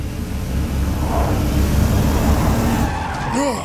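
A delivery truck skids in the video game Binary Domain, a loud continuous rumbling slide of tires and engine lasting several seconds, ending in a brief rising squeal.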